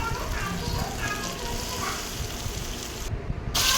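Chicken added to masala sizzling in oil in a pan for chicken gravy, a steady close frying hiss with crackle and a voice speaking over it.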